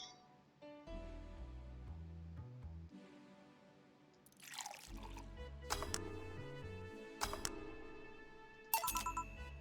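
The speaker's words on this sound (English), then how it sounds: "Alright, I got a notification." A phone notification chime in the VA-11 HALL-A video game plays amid bright electronic music and game sound effects, with a few sharp tonal hits standing out near the end.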